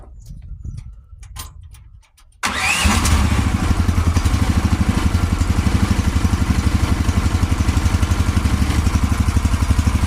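A few clanks and knocks, then a mini digger's diesel engine cranks and catches, settling into a loud, steady, rhythmic idle that runs to the end.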